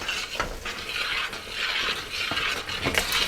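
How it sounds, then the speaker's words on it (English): A utensil stirs peanuts into hot caramel in a pan off the heat, producing close, rhythmic scraping and gritty rattling strokes with faint sizzle underneath. "And then we're going to add the peanuts, stir that in."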